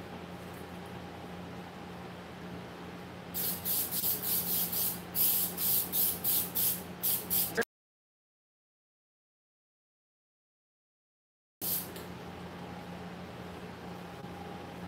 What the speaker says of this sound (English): Need more spray?